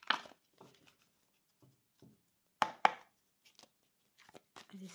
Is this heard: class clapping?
no